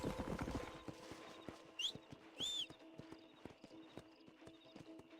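Horse hooves clip-clop at a slow, steady walking pace in the video game Red Dead Redemption 2, close and clear, with a couple of brief whinny-like tones and faint ambient game sounds behind.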